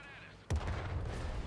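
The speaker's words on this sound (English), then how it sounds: "And artillery goes for me" Heavy artillery shells slam into a tank in the World of Tanks Modern Armor game on PS5, one sudden loud booming impact followed by a sustained rumbling roar and ringing debris noise.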